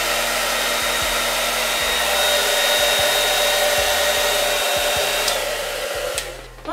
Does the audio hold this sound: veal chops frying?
no